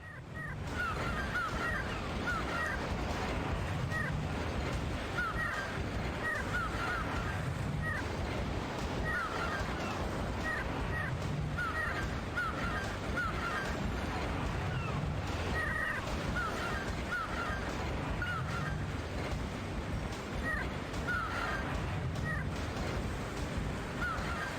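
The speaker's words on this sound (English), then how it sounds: "The seagull effects are quite annoying" Seagull cries from the video game Grandia repeat in rhythmic bursts throughout, layered over a steady, loud rumbling background with no speech.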